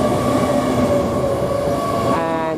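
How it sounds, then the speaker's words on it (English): An LNER class 800 train, unit 800-107, on the London King's Cross to Harrogate service, idles loudly and steadily at Peterborough station platform, with a constant engine drone and a faint brake squeal rising near the end. "If you are travelling to Harrogate, this is the Harrogate train, not meant to stop here."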